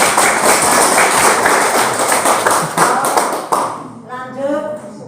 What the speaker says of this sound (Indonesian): Jadi tepuk tangan satu kali dulu